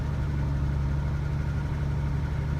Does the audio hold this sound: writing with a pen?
no